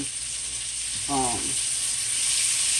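Sausages fry in a pan on the stove for a one-dish sausage, rice and vegetable stir fry, giving a steady close sizzle with a brief voiced sound partway through.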